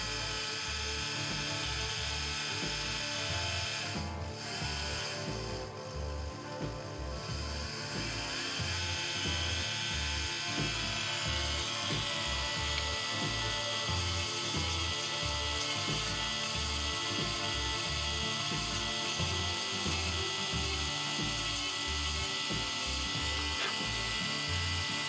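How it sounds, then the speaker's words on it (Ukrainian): An electric manicure nail drill, a handheld milling pen, runs steadily with a continuous high-pitched whine and a pulsing low hum, close and loud throughout. "Ну, фрезер свою роботу виконує."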